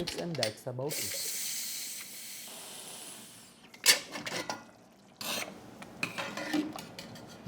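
A pressure cooker holding rajma gosht, kidney beans with mutton, lets out a steady steam hiss for a few seconds, then gives way to clatters, scrapes and soft kitchen handling sounds, moderately near.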